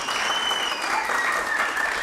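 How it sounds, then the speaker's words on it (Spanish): A church congregation at a Sunday service applauds together in a dense, steady wash of clapping that fills the whole moment, loud and continuous. "¡Aplauda!"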